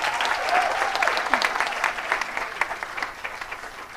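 Audience applause at a climate justice summer school in Nairobi, a steady dense clapping from a crowd that stays fairly even throughout with slight swells and no speech over it.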